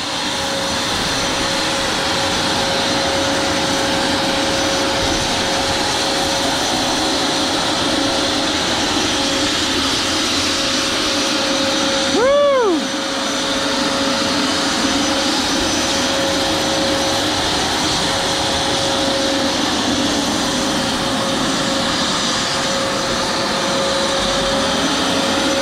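MD600N RC model helicopter hovering nearby, a loud steady whine and whir with a sustained tonal hum throughout and one brief pitch sweep partway through, no talking.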